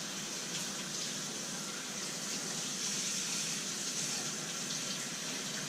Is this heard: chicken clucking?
no